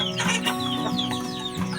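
Shamo chickens, small birds with Asil blood, cluck in a backyard at feeding time, a steady overlapping stream of soft calls and clucks close by.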